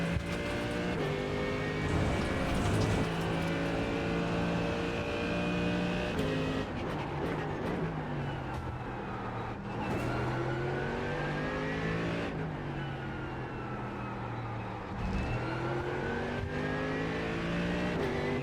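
A race car engine in a sim racing game revs steadily and loudly throughout, its pitch rising and dropping with throttle and gear changes, sometimes dipping briefly before climbing again.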